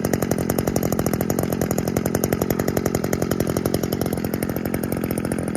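A gas string trimmer engine idles, a loud, close, rapid two-stroke putter with an even pulsing rhythm that holds steady throughout.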